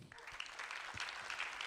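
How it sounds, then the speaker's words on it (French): Faint clapping from a panel-discussion audience builds after a soft start, turning into a steady patter of many hands that stays quiet and distant. "Albert Bouquébert, qu'on applaudit aussi,"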